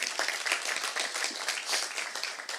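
Audience applause at a startup innovation forum, a brisk burst of many hands clapping at moderate volume, steady throughout with no speech over it.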